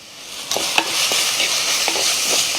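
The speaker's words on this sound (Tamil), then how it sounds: "எல்லாம் எண்ணெயிலே வணக்கி விடுங்க." Agathi flowers with turmeric and chili powder sizzle steadily in hot oil in a pan, with a few soft scrapes of stirring over the continuous close frying hiss.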